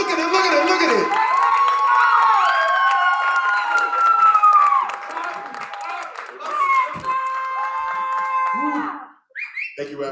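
A crowd at an open mic cheers and whoops with scattered clapping, loud and lively, while a voice rings out over the noise. The sound falls away abruptly near the end.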